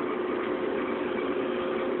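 A 1973 Cutlass with rear-end work and 3.73 gears idles in a steady, close mid-pitched hum with a faint vibrating texture.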